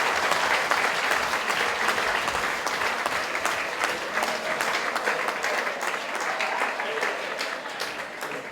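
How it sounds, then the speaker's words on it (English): An audience at an award ceremony honouring Ms. Elisa Hamilton claps and cheers in a loud, steady burst of applause that fills the room and eases slightly toward the end. "Don't clap too long"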